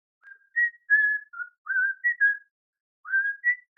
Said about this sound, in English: interrupted by an elderly passerby, whistling a tune, who tips his hat